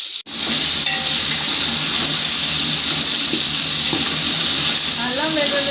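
Onion pieces and green chillies hit hot oil after cinnamon and cloves, a loud steady hiss that holds throughout, with a voice talking faintly underneath.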